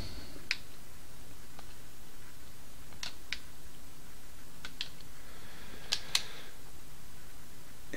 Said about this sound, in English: Don't know if you could hear me clicking